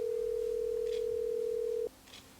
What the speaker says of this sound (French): je vais te le prouver en appelant un de mes fournisseurs